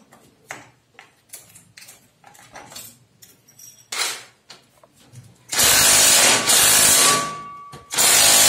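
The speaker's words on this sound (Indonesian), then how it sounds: "pakai impact sampai nggak kuat" Impact wrench hammering hard on stubborn original bolts of a Honda Supra X 125 injection motorcycle, loud sustained bursts after a run of clinks and tool handling.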